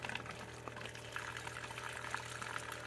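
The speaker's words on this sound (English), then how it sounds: "open up this super cheap vodka, which is 80 proof. And we're just going to pour it in," Cheap 80-proof vodka is poured over minnows in a container, a steady trickling, gurgling liquid pour over a low hum, quiet and continuous with no speech.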